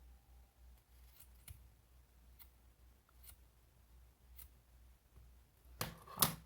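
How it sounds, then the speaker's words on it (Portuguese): Scissors cutting wool yarn for a cloth hobby horse mane, with a few sparse, quiet snips at first, then a louder, closer burst of cutting at the end. "E vou cortar a dobra aqui da minha lã"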